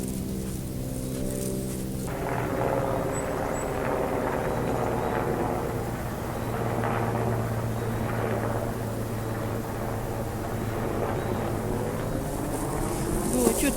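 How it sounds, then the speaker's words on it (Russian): A helicopter passes over a forest, its steady low rotor drone filling the whole stretch loud and continuous. Someone talks under the noise in places. "Ой, что там, вертолет летит?"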